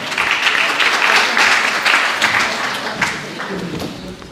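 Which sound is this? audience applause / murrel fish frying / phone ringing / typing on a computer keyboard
audience applause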